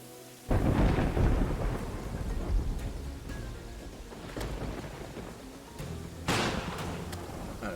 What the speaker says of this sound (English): Oh god, there's a thunderstorm.